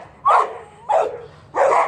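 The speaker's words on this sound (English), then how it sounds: "Wow, beautiful dog." A white, wolf-colored dog barks three times, loud and close, each bark a broad gruff burst spaced evenly against a quiet background.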